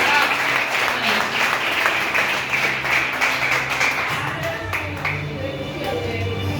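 Congregation clapping inside a Portuguese-speaking evangelical church, a dense wash of hands with a bright ring over it that fades a little toward the end, while voices carry on underneath.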